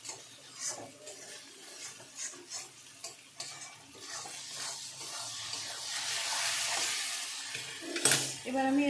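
Chicken curry spice paste being stirred and fried in oil, rhythmic scraping strokes of a spoon over a soft sizzle that grows into a steadier frying hiss, ending with a brief clink.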